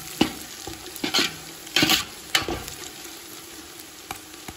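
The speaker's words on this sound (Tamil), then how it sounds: "வெங்காயம் நல்லா வதங்க கிடக்கு" Onions sautéing in a pan for chicken biryani, a steady sizzle broken by several sharp scraping stirs of the spatula, close and clear with no talking.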